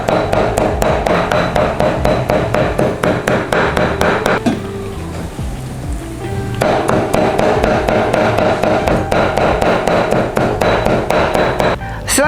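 Fish skin being chopped finely with a knife on a board for pempek lenjer: rapid, steady knocking strikes close up, pausing briefly midway, then resuming in the same even rhythm.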